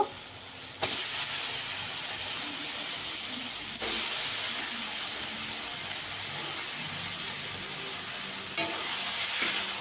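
Shredded cabbage drops into fried spice paste in hot oil, setting off a sudden loud sizzle that holds as a steady, close hiss with stirring and scraping, without talk.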